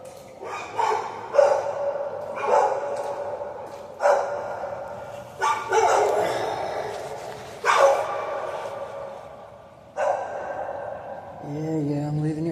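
A dog barks repeatedly in bursts beside a concrete culvert under a highway, the loud, close barks arriving in clusters with short pauses, and whines or yips near the end.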